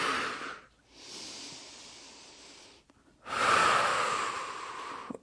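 Long, forceful exhalations and inhalations from an instructor during a Pilates class, close and airy, three breaths in a steady rhythm with brief pauses between them.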